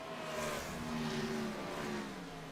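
IROC race car at Kansas Speedway just after slamming the inside wall out of turn two, its engine droning and revving steadily at moderate distance with no voices.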